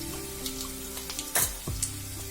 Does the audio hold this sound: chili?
yes